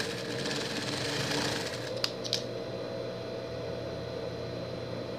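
A sewing machine runs steadily and continuously while topstitching knit fabric for a pet costume, with a fairly loud mechanical whir and two brief clicks partway through.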